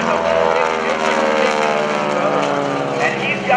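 A propeller airplane flies overhead at the 2015 NAS Oceana Airshow, its engine drone steady and loud throughout with a rough buzzing tone and no break.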